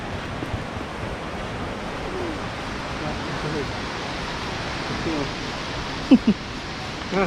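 Tad Yuang waterfall in southern Laos, a steady roaring rush of falling water heard close, with a few sharp knocks near the end and someone speaking faintly over it.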